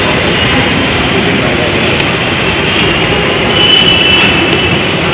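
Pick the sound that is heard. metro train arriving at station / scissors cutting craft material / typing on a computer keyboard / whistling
metro train arriving at station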